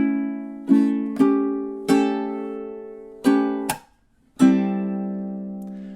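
Ukulele picked fingerstyle at a very slow tempo, a summery melody measure of about six separate plucked notes and chords, each ringing and decaying before the next, with one brief silent gap, close and clear with no talking.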